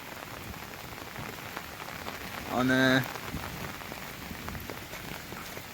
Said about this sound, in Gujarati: વીજળી પણ હળાવા નાખે છે અને મેહુલો પણ એવો રહે છે